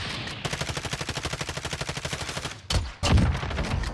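Gunfire in Call of Duty Warzone, Modern Warfare: a rapid, even burst of automatic fire lasting about two seconds, followed by a couple of heavier, louder shots close by.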